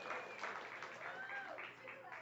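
Thin, brief applause from a magic show audience, faint and scattered, with a voice talking over it.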